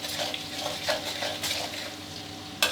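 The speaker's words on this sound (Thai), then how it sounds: "นี่ให้เราเจียวหอมแดงด้วยไฟกลางค่อยไม่อ่อนนะครับ" Shallots frying in oil over medium heat give a continuous close crackling sizzle, broken by light scrapes and clinks of a utensil stirring the pan, with no voices.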